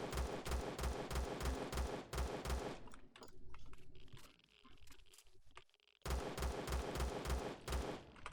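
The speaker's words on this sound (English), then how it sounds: "I'm actually going to use my gun to do it." Rapid bursts of gunfire aimed at a Tellurapod creature in the survival game Empyrion, sharp repeated shots in two strings separated by a quieter stretch of rustling and movement, close and punchy.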